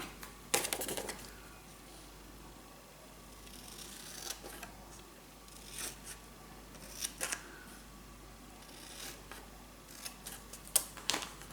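Scissors snipping paper for a moody burgundy scrapbook mini album, a few short crisp cuts in scattered bursts, close and fairly quiet in a still room.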